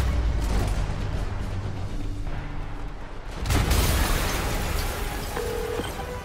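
A deep, rumbling explosion from Spider-Man Remastered on PC erupts amid an already dense, loud game soundscape, followed by a sustained roar of debris and noise.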